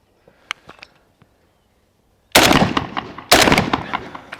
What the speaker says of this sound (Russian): Выстрелы проходят слева.